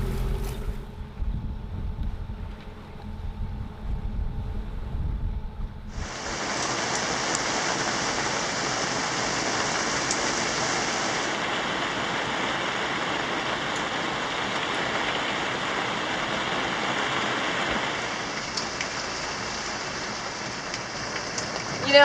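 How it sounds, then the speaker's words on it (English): Steady rain pours onto a sailboat anchored off Morro Negrito, a dense even hiss that starts abruptly after a quieter stretch and continues without pause, with faint wind behind it. "You sit through the rainstorm and watch if the wind is still okay"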